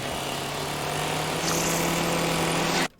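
A chainsaw from the Texas Chainsaw Massacre (2022) film drones steadily at a loud, constant level, then cuts off abruptly near the end.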